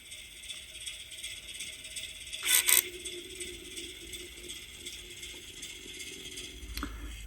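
A model Class 08 shunter locomotive fitted with an HM7000 decoder and stay-alive moves off after its brake releases: a brief mechanical clatter, then a faint, steady whirring of gears running on alone.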